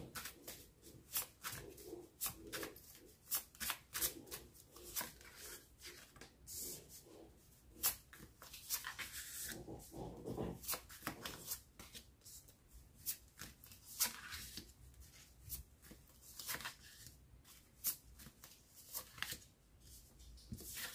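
Tarot cards being shuffled for another draw: a steady run of close, crisp riffling and flicking card bursts over about twenty seconds, with no one talking.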